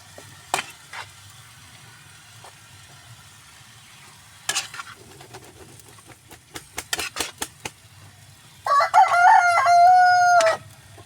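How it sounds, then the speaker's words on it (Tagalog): A rooster crows loudly and clearly near the end, one long drawn-out call, after scattered sizzling and clattering kitchen sounds of frying food nearby. "Saba pagod sa kong manok oy."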